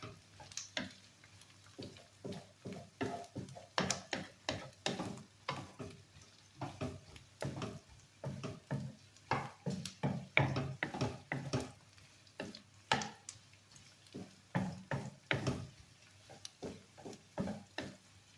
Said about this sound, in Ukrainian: Морква з цибулькою, що в мене смажиться